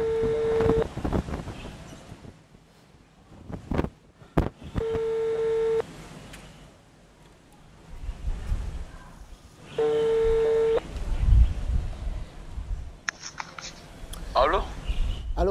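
A telephone ringback tone sounds during an outgoing call to a loan app developer, in three evenly spaced buzzing bursts with quiet gaps between them, mixed with faint background noise and a few clicks.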